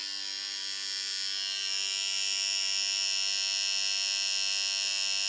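A budget single-speed 7,000 RPM hair trimmer runs continuously with a steady electric buzz and hum, close up and unchanging, growing slightly louder after the first second, with no talking.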